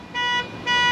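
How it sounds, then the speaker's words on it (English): At a campground, a car alarm blares two short pulsed tonal honks in a row while someone talks underneath. "Americans apparently don't know how their car alarms work."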